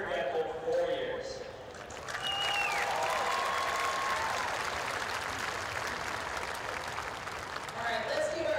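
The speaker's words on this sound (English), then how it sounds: "let's give our speakers and our musical performers one more round of applause" A crowd claps steadily for several seconds at a high school graduation ceremony, a dense patter of applause with a few faint whistles rising above it.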